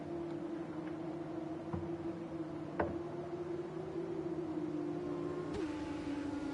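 An F2 race car in a racing video game at Silverstone gives off a steady, moderate engine drone that holds one pitch throughout, broken by a few faint clicks.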